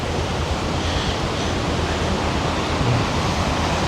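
A swollen stream rushes after Cyclone Ditwa near Walapane in Nuwara Eliya, Sri Lanka. It makes a steady, dense, close roar of water that stays even throughout, with no voices.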